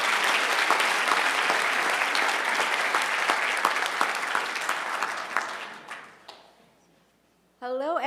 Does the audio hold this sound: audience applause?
yes